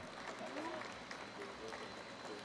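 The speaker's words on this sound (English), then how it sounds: "Another round of applause, please" An audience at a banknote design reveal ceremony claps in a sustained, moderate round of applause that mixes with a talking voice.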